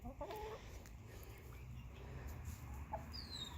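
Chickens cluck faintly in a yard, with a few soft, scattered calls over low background noise and a high, thin sound near the end.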